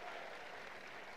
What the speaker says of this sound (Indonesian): Tepuk tangannya bukan seperti orang feeling good.